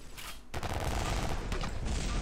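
Dense automatic gunfire from the War Trigger 2 shooter game, a quiet lead-in giving way at half a second to a sustained loud barrage of rapid, overlapping shots with no voices.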